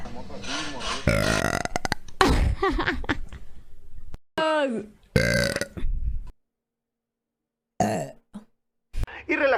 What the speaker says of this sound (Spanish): Voy a eructar, chat. Voy a eructar.